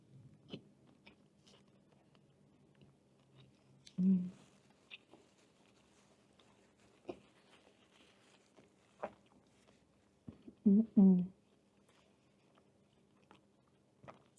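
Last bites of a Burger King meal chewed close to the mic, with sparse soft chewing clicks and a few louder bursts of crunching and mouth noise in quiet surroundings.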